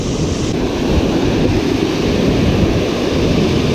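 Heavy, continuous roar of a dam-release waterfall at a fishing spot, loud and close with a steady rushing wash and no talking.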